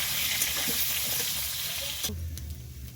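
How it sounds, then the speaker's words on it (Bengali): New potatoes dusted with a little turmeric fry lightly in a pan, giving a steady close sizzle with scattered stirring scrapes that shifts to a lower hiss partway through. "আলুর মধ্যে দেবো সামান্য হলুদ গুঁড়ো আর যদি সিদ্ধতে লবণ দিয়েছিলাম এবারে হালকা করে একটু ভেজে নেবো"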